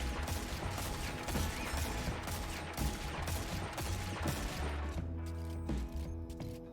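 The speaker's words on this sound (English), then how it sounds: "This SMG just rinses them." A submachine gun fires rapid bursts in a Destiny lost sector, mixed with dense, busy game effects and explosions. The rattling fire is continuous and loud throughout, with a mechanical edge toward the end.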